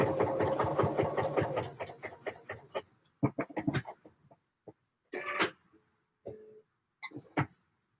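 A sewing machine stitches a Deer and Doe Lupin jacket in a fast, steady mechanical run for about three seconds, then gives way to short, sparse bursts of handling and quieter clicks.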